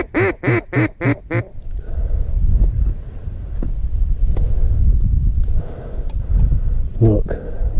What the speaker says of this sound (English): Look at these mallards.